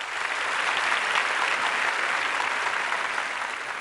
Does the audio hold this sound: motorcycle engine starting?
no